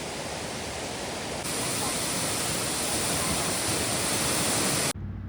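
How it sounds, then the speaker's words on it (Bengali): Water at Changey Falls near Kolakham pours into a large deep cave, a loud, steady, broadband roar of rushing water heard up close, with no talk, cutting off abruptly near the end. "এই গুহার ভেতর জলটা পুরো ঢুকে যাচ্ছে।"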